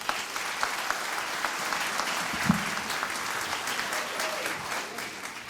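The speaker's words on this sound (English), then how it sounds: "give a big old round of applause to the Be Duluth Now show" A seated audience at Duluth, Georgia's State of the City Address applauds for the Be Duluth Now show, producing a steady, dense wash of clapping from a medium-sized crowd that holds at an even level.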